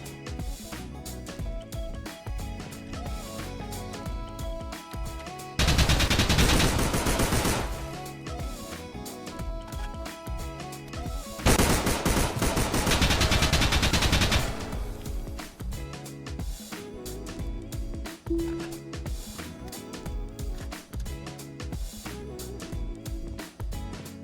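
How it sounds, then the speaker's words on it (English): Two long bursts of rapid automatic M4 rifle fire in a mobile DayZ-style survival shooter, each lasting a couple of seconds, cut through a busy backdrop of continuous game sound. "I grabbed an M4 and ran down to meet them."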